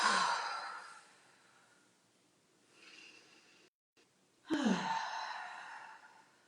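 A person doing a yoga stretch for the neck and shoulders breathes out through the mouth in two soft, audible exhales, close and quiet, separated by a brief silence.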